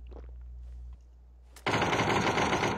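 PUBG gameplay gunfire: after a quiet stretch with a low hum, a loud, dense burst of rapid automatic shots erupts and continues to the end.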